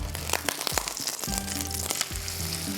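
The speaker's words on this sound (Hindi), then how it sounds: "थोड़ा सा एक साइड पे फ्राई होगा फिर हम इसको टर्न कर दें।" A stuffed tikka boti paratha roll fries in a pan with a loud, continuous close sizzle and crackle, and intermittent scraping and shifting sounds from the pan.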